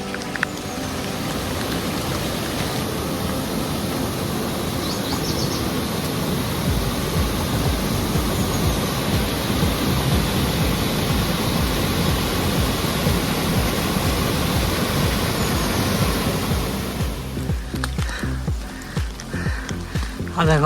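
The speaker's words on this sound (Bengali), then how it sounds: "বৃষ্টি হচ্ছে তো হচ্ছেই।" Rain falling during a mountain trek in Nepal, a dense steady wash of drops hitting surfaces, loud and continuous for the whole stretch, tapering slightly near the end.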